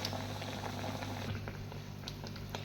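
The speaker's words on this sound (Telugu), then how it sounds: "ఇదిగోండి ఆయిల్లో వేసుకుందాం." Appalu dough sizzling in hot oil, a steady dense crackle and bubbling that runs on close and fairly loud without pause.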